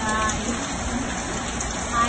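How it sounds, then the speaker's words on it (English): Steady rain hisses on a surface, a dense, even patter without any clear voice. "It's raining."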